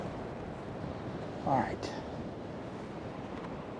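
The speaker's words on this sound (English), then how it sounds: "Wow, is it windy." Strong wind gusting outdoors beside a beehive ahead of a coming storm, a steady roaring rush buffeting the microphone throughout, with a brief spoken phrase in the middle.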